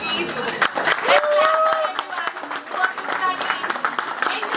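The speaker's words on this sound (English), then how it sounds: "let's pause of a moment and give ourselves well-deserved a round of applause" A New Year celebration audience at a fertility clinic event bursts into applause, with scattered claps mixing with cheering voices and lively chatter throughout.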